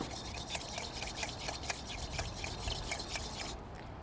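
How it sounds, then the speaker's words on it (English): A honey and lime dressing whisked together in a bowl, quick rhythmic scraping taps and light liquid clicks repeating close up, then trailing off near the end. "And then just whisk these ingredients together"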